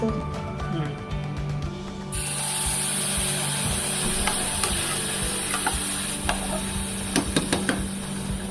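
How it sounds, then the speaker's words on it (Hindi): Vermicelli roasting in ghee for Raksha Bandhan sevai gives a steady soft sizzle with scraping and stirring clicks throughout, close and moderately loud, with no talk. "फिर मैं सेवइयाँ इसी घी में हल्का सा भूज लूँगी"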